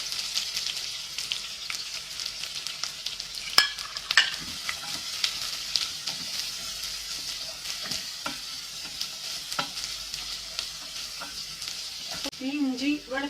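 Curry leaves and onion fry in hot oil for a chicken curry, giving a constant close sizzle broken by repeated scraping stirs, and a voice is heard briefly near the end.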